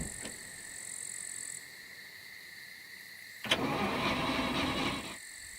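A truck engine in a hardcore solo survival video game: a steady whining hum with high tones, then a roaring burst of engine noise for about two seconds before it drops back to the quieter drone. No one speaks.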